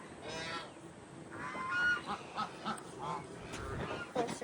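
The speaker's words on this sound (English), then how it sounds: "There's ducks and geese down here." Geese and ducks on a tiny farm honk and quack in a string of loud close calls, several overlapping bursts with a faint voice in the background.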